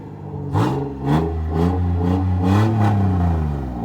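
Engine of a 3rd gen Toyota 4Runner runs steadily nearby, its idle punctuated by a few quick revs that rise and fall in a loose rhythm.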